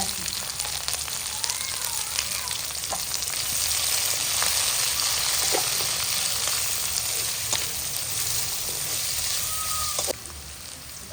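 Cabbage and onion frying in a pan for restaurant-style mushroom fried rice, with a loud, steady close-up sizzle and occasional stirring scrapes throughout. The level dips slightly near the end.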